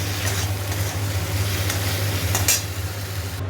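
Spice paste of ginger and tomato frying in a pan while being stirred, a steady close sizzle with a low constant hum underneath and a few brighter scraping strokes, no talk.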